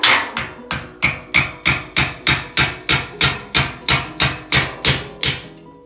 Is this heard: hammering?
yes